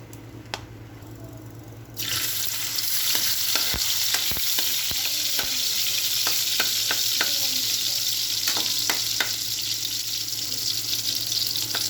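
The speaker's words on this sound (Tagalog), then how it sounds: "Igisa po muna natin. Yan, ang sibuyas." Onion sautéing in cooking oil for pork ribs caldereta, a loud sizzle bursting in after a quiet start and holding steady close by, with a spatula's scattered taps and scrapes in the pan.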